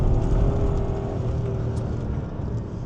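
A BMW E34 540i V8 pulls hard along the road at full load, a dense, continuous engine roar with a faint rising tone, heard close and steady for a few seconds.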